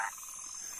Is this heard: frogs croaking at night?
yes